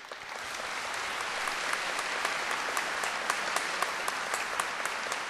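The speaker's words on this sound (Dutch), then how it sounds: "Ik denk dat een applaus voor hun zeker op zijn plaats is." An audience in the Pretoria city hall applauds the organisers of an organ concert. The clapping is steady and sustained but fairly distant and soft, with a few sharper individual claps standing out.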